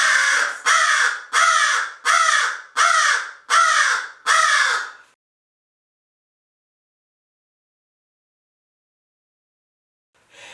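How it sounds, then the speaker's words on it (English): An American crow gives six loud, close caws in a steady rhythm, then falls silent. "Corbin is an American crow."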